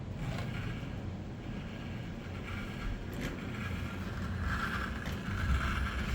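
Union Pacific helper locomotive in distributed power winding up, a steady low diesel rumble that swells slightly toward the end, with wind noise.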